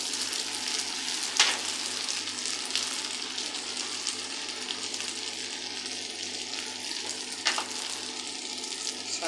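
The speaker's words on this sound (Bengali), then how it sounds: "এভাবে ভেজে নেবেন মশলাটা।" Spice paste (masala) frying in a pan gives a steady, close sizzle throughout, with two sharp scraping stirs breaking through the crackle.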